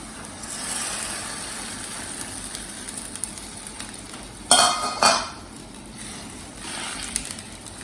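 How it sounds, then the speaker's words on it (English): A utensil scrapes and clinks against a pot of rice, mung dal and water, over a steady low hum, with two sharper metallic clanks in quick succession partway through. "mix it nicely."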